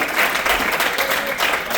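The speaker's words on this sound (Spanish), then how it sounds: "Vamos a dar un fuerte aplauso al Señor por el grupo de multimedia" A church congregation claps loudly and continuously during a sermon service, a dense burst of applause close by with no talk over it.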